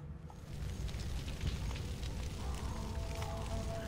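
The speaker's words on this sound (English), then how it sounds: "Fire everywhere." Fire burns in the stone-age game Far Cry Primal, a faint rushing crackle with scattered sharp pops that swells slightly partway through.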